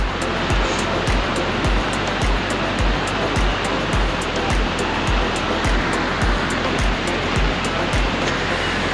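Swollen rivers in flood rush together at their confluence during heavy Kokan monsoon rain, a loud, steady roar of churning water with a faint repeating low thump running through it.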